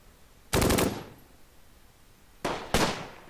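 Gunfire in the World War II strategy game Close Combat, a distant crackling burst of rifle or machine-gun shots followed after a pause by two more quick bursts, set against quiet background noise.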